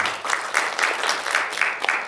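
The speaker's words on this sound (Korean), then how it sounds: "박수 한번 보내주십시오" Audience applause at a symposium on generative AI and copyright, a steady moderate patter of many hands with a few sharper claps, continuous over a couple of seconds.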